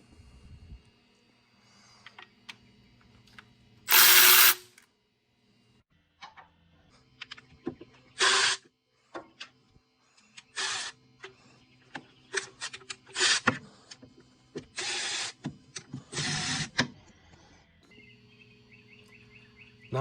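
Mechanical work on the timing cover bolts of a Volvo 1800S: scattered close metallic clicks and ratchet-like taps with several short, loud bursts of wrench or tool noise, no talking.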